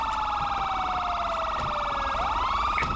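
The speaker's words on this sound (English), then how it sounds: "That county car is the last one with sirens on." A police car siren in GTA 5 wails continuously, loud and close, its pitch sweeping in a fast warbling pattern with no talking.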